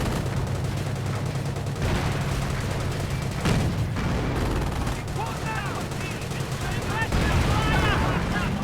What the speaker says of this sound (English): Mortar rounds keep landing, killing Brits.